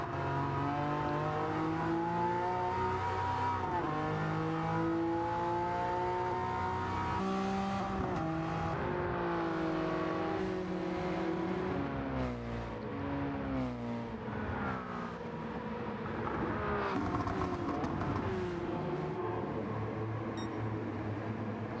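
Engine of a Suzuki Jimny driven in a racing video game, in low gear toward about 90 mph: a steady, loud droning tone that climbs and dips through gear changes with no pause, over a continuous bed of game audio.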